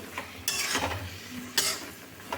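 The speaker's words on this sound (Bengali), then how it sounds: "আবার ঢাকা খুলে ভালো করে আবার চেপে চেপে নেড়ে নিচ্ছি" Tomato chutney is stirred and pressed in a pan, giving two sharp, close scraping strokes over a low background hum.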